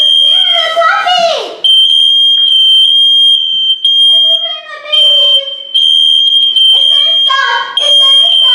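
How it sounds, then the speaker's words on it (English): A loud, piercing smart smoke alarm sounds continuously at a steady high pitch while its voice speaks over it in short bursts, announcing evacuate and fire in kitchen. "You do get the alarm that goes off first"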